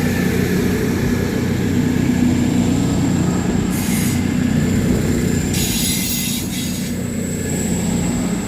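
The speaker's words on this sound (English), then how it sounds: "we see the arrival of 17430, working the 1829 Scotrail service from Aberdeen to Edinburgh Waverley" A ScotRail passenger train running from Aberdeen to Edinburgh Waverley pulls into Edinburgh Haymarket station with a loud, steady rolling rumble, its wheels squealing in shrill high bursts partway through.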